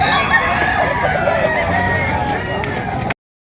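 A rooster crows at a busy chicken market in Padre Garcia, Batangas, with one long, loud, full-voiced crow over crowd noise that ends abruptly.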